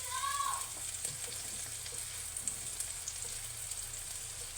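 Spaghetti cooks in a pan with a soft, continuous sizzle and faint crackling, fairly quiet and steady throughout, with no clear talking.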